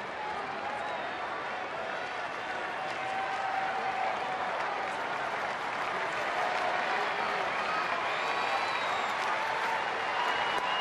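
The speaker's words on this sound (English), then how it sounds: "As the crowd will salute him in his walk to the dugout." A baseball crowd at Fenway Park applauds Ortiz during a Red Sox home game against Toronto, a dense, sustained wave of clapping and cheering from a large distant crowd that holds steady throughout.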